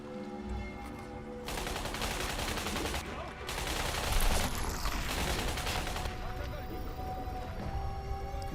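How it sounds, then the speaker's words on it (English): Enemy gunfire in Crysis, shots coming through rocks: a dense, sustained crackle of shooting that flares up after a quiet start and runs steadily, with a brief dip partway, under a constant game background. "They're literally shooting through the rock."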